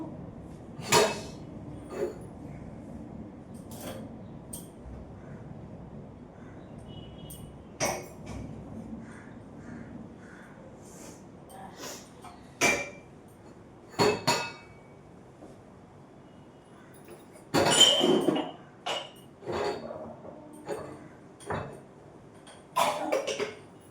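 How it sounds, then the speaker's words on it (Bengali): Someone washes a kadai and other dishes, with scattered metallic clanks, knocks and clinks spaced irregularly and one busier splashing burst, close by over a quiet room background, with no talk. "এই কড়াইটা আর এটা ধোবো।"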